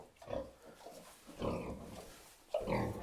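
A nervous sow in a farm pen lets out a few close, low grunts and snorts in short bursts, with brief pauses between them and no talking.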